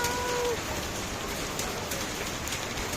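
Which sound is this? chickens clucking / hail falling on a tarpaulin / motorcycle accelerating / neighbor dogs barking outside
hail falling on a tarpaulin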